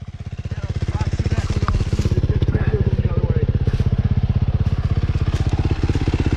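A dirt bike motorcycle on a sloppy, muddy hill runs with a loud, close, rapid engine chug, holding a steady throttle throughout with some splattering and clattering on top.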